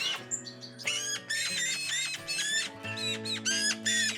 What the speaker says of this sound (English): High winds have knocked hundreds of fledglings out of their nests, including 30 baby blue tits.